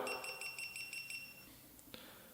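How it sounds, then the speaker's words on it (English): A quick series of about seven short, high electronic beeps from a GoPro Hero4 Session action camera switching off, followed by a longer tone and a faint click. "Turn it off again, it'll beep a few times"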